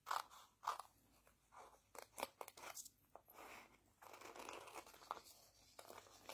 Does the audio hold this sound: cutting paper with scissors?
yes